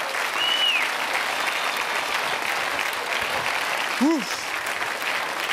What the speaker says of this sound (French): je vous demande de les applaudir comme il se doit